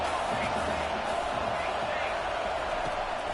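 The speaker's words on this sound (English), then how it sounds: "Decibels rising as the crowd gets behind this defense on 3rd down." Football stadium crowd roaring behind the defense on a 3rd down, a loud, steady wall of cheering and whooping that stays dense throughout, with a commentator-like voice blending into the din.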